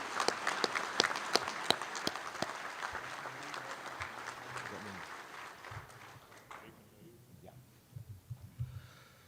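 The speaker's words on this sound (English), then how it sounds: "Let's give our 10th grade winners a big round of applause." Applause for 10th grade winners at an annual convention general session, sharp claps fading out partway through, followed by quieter room noise and low murmuring voices.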